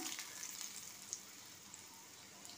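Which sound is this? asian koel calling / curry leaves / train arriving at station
curry leaves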